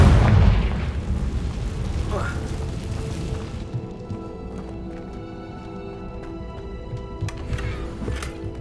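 A booming fire explosion spell in Hogwarts Legacy on PS5, with a loud blast at the start that rumbles and fades into lingering crackles and ambient game sound, with a voice calling out over it.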